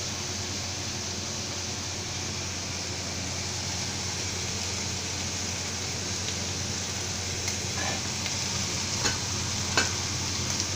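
Lotus stems stir-frying in a wok make a steady, even sizzle with a hissing, fan-like noise beneath it, and faint scrapes and clicks are heard toward the end.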